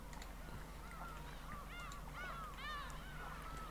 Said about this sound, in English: that is a short sound file with the birds